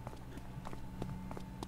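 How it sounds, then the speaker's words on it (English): Footsteps on pavement in the video game The Dead Linger, a quick series of soft, evenly spaced taps under a faint steady background hum. "It sounds like you're walking on pavement."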